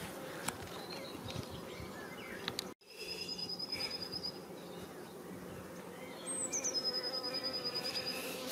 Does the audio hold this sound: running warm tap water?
no